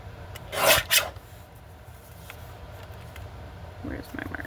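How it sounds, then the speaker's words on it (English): A paper trimmer slicing paper for an envelope insert gives two quick close rasping strokes near the start, followed by quieter handling and light rustling toward the end. "just going to use my trimmer and trim"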